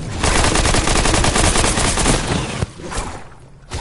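Rapid automatic gunfire in a video game, a dense, loud run of machine-gun bursts that fills nearly four seconds before breaking off into shorter sputters at the end.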